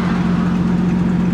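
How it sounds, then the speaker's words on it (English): A car with a loud, modified cat-back exhaust idles close by, a steady deep rumble with a strong low throb and no break over the short stretch, heard alone without talk during a traffic stop. "David, reason why I pulled you over is for your loud exhaust"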